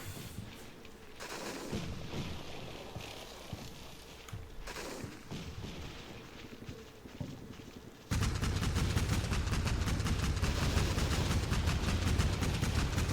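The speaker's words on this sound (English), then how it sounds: "Fire coming from the orange roof house." Gunfire in the Combat Mission Black Sea war game, scattered distant shots and bursts at first, then a loud, continuous crackle of heavy firing that fills the final seconds.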